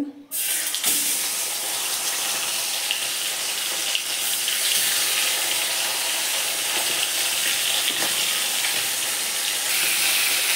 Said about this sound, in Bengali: মাছটা আমি একটু তুলতে নিয়েছি আর একটু ভেজে নিচ্ছি।